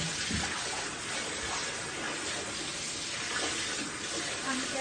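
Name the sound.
shower water running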